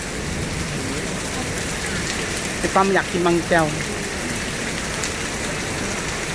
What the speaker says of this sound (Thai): ฝนตกหนักนะครับ หลังบ้านฝนตกหนัก